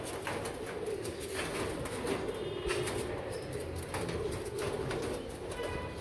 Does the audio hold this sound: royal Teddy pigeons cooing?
yes